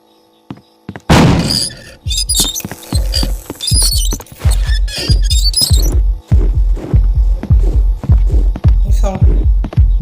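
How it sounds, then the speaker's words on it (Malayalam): Steady, loud thumping heartbeat in a Pennywise horror video game, regular heavy pulses that start after a second of quiet and continue under bursts of eerie game effects. "അത് വരുന്നുണ്ട് ഹാർട്ട് ബീറ്റ് ഉണ്ട്."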